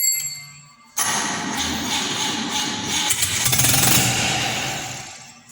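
A rebuilt 261 six-cylinder engine cranks and fires for its first start after an overhaul, the loud rough idle running steadily and rising briefly as it revs before settling, with no talk over it.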